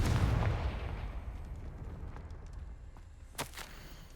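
The Confringo explosive spell is cast in a Harry Potter video game, heard as a loud rumbling blast that fades over a few seconds, followed by a brief sharp crack near the end.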